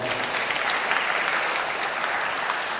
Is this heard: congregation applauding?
yes